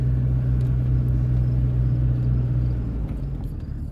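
A truck engine tows a load uphill in low range, first gear, with a worn transmission. It runs as a steady, loud, low rumble throughout and thins slightly near the end. No one talks.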